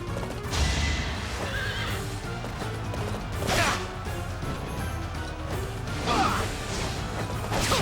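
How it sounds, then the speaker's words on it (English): Horses in the Fire Emblem video game neigh and whinny loudly several times, with clip-clopping hooves, whooshes and crashing battle effects around them, and no talking. "There's another horse coming."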